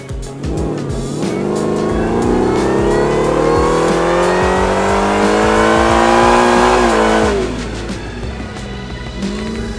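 A Ford Raptor R fitted with a Whipple supercharger roars through a loud dyno pull, its engine note climbing steadily for several seconds before dropping off and settling back to a lower rumble.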